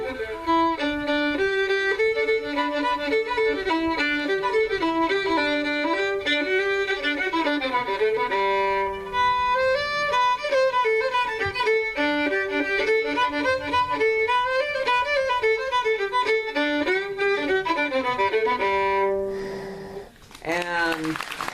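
Fiddle playing the old-time tune Arkansas Traveler, a lively, continuous melody of quick bowed notes, loud and close, with a brief pause near the end before a final flourish.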